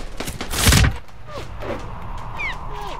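A short, loud burst of rapid gunfire in a shooter video game erupts near the start, then fades to quieter scattered game sounds.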